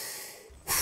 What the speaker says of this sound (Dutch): Ik hijg en ik puf en ik blaas je boot vooruit.